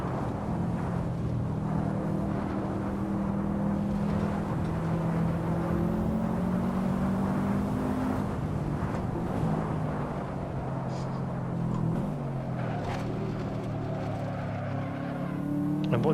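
A boxer-engined car in the racing game Assetto Corsa drones steadily throughout, its engine pitch rising and falling with throttle changes, as a continuous loud tone with a dip and rebuild near the end.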